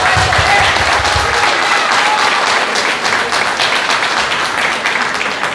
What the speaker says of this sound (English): join us in applauding our graduating class of